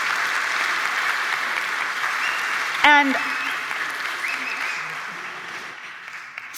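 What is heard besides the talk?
audience applause for platform committee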